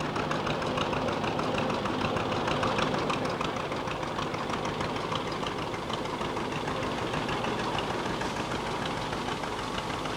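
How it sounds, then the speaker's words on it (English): A recently restored John Deere tractor engine runs steadily at a parade-style centenary celebration, a continuous loud knocking idle rumble with no talk over it. "Here we have another John Deere tractor following up."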